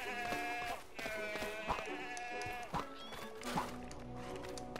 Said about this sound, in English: We have a goat.